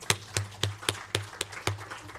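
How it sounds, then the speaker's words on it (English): At a climate and higher-education conference, a group claps for online guests from Malaysia: about seven sharp, evenly spaced claps in unison, a quick rhythm over a faint low hum, with no talking. "Let's clap for them."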